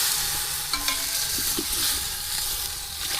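Food sizzles and bubbles in a pot with a steady hiss, broken by a few soft scrapes of a spoon stirring, close by.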